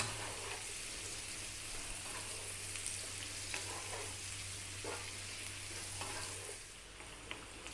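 Carrots fry in a generous amount of butter in a pan over a gentle flame, giving a soft, steady sizzle with occasional crackles and stirring clicks, quiet and close.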